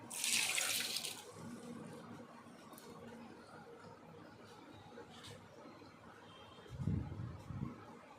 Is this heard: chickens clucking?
no